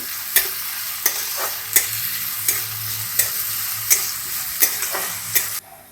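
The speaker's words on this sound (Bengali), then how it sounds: "আমি এক বাটি মতো পেঁয়াজ কুচিয়ে নিয়েছি ওটা দিয়ে দেব হালকা ভেজে নেবো" Chopped onions frying lightly in a pan, stirred about once every half second or so: a bright, steady sizzle broken by regular scraping strokes of the spoon, close and fairly loud with no voices.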